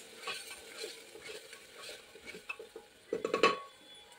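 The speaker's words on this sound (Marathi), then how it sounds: "मसाला छान असा आपल्याला भाजून घ्यायचा आहे." Masala for mutton curry roasts in oil with a faint, soft sizzle. Gentle stirring scrapes run through it, ending in a brief cluster of louder clinks against the pan.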